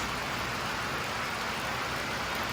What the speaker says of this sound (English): it's raining pretty darn good out there